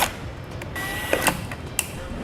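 Self-tapping screws, about 1 1/4 inch, driven to secure an Optronics LED trailer clearance light: a steady close mechanical whir with a rising whine and a few short clicks.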